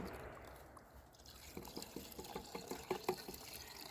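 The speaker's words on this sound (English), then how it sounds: "Alright, Tristan, we're going to pour some water" Water poured into evaporated milk for an outdoor fire-cooked dish, heard as a soft liquid trickle with a run of small drips and splashes growing louder toward the end, fairly close and without speech.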